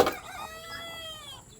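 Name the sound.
broiler chickens clucking while being weighed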